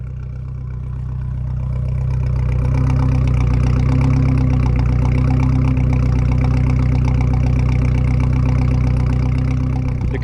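A turbocharged Ford Ranger with a Borla muffler idles with a deep, steady exhaust rumble and a faint mechanical whir on top. The rumble swells slightly at first, then holds constant and loud with no talking.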